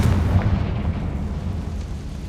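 Confringo fire-spell blasts from Hogwarts Legacy roar as a dense, loud, low rumble that fades slightly over two seconds, with no talk.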